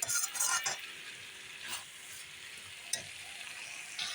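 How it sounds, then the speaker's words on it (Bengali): A spatula stirs a pan of mixed vegetable chorchori with potatoes as it sautés, bringing soft scrapes and a low sizzle, with a few louder clinks against the pan. "এখন আস্তে আস্তে কষিয়ে নেব"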